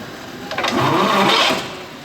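A 1914 Rolls-Royce Alpine Eagle aero engine runs roughly on the coil for a couple of seconds, a loud whirring, buzzing rattle that swells and then eases off.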